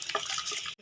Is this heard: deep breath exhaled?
no